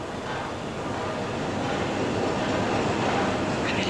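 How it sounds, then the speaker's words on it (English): A train rolls into a railway platform, a dense, steady rumble and rushing roar that holds loud and continuous throughout with no clear pauses. "The train now arriving at platform 3 is the"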